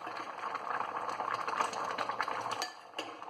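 Nagercoil-style coconut fish curry (meen kulambu) boiling in a pot, a steady close bubbling simmer with a few light clinks of metal on top and no voices.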